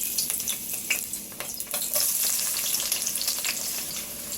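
Onions dropped into hot oil in a pan crackle and sizzle loudly up close, with a continuous spitting hiss broken by sharp pops and stirring clatter, and no one talking.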